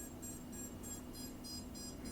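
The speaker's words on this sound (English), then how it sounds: "it's beeping because it's not connected to a radio" An Emax Tinyhawk II drone beeps in a regular repeating pattern while not connected to a radio, about three short tones per second, faint and steady with no talking.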